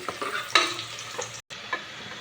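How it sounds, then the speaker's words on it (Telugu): Onions fry in a pan for a spicy Rayalaseema mutton curry, with a soft sizzle under a few scraping stirs of a spoon, close and fairly quiet, broken by a brief silence. "ఆనియన్స్ వేసుకున్నాక ఫ్రై చేసుకోవాలండి."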